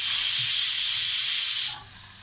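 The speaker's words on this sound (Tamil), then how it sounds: "வெங்காயம் ரொம்ப வதங்க வேணாம், லைட்டாக வதங்கினா போதும். இப்போது எடுத்து வச்சுருக்கோம் இந்த தக்காளியை போட்டுக்கலாம்." Tomatoes and onion sauté in a hot pan for mint pulao, making a loud, steady sizzling hiss that drops suddenly to a much quieter simmer near the end.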